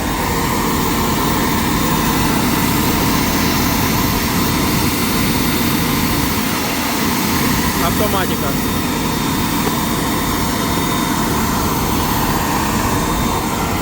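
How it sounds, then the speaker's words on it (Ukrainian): An ordinary, inexpensive automotive air compressor runs with a steady, loud mechanical drone throughout, while someone talks over it. "Так, оце тут стоїть компресор."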